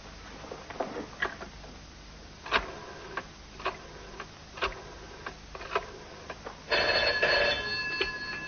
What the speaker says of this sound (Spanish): La señora Hardcastle al teléfono, señor.